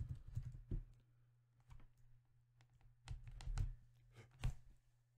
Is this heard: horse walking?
no